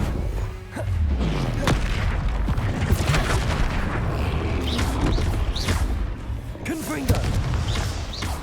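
Heavy booming and crackling blasts from Hogwarts Legacy combat with a Flipendo spell cast, dense and continuous with swooping whooshes, while a voice talks over the action.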